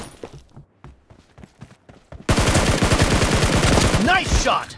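Gunfire from a team shooting video game: scattered quieter shots give way to a loud, sustained rapid burst of automatic fire lasting a couple of seconds, with brief voices near the end.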